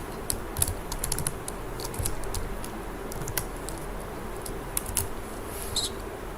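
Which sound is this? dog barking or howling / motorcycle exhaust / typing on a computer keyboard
typing on a computer keyboard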